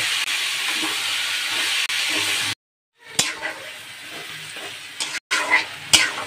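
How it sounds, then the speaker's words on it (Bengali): Spice paste fries and is stirred in rendered mutton fat for a chana dal dish, giving a loud steady sizzle that cuts out briefly, then returns as softer hissing with the scrape of a spatula. "এখন সেই চর্বি দিয়ে আমি কষিয়ে নেব"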